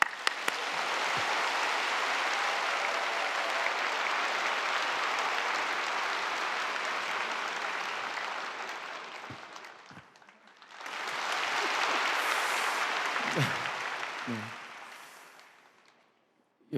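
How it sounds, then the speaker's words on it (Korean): A sustained wave of warm audience applause at a church prayer gathering greets a married couple, a singer-composer and an actress, as they walk out. It fades after about ten seconds, then swells again before tapering away. "우리 두 분 나오실 때 다 같이 뜨거운 박수로 맞이하겠습니다"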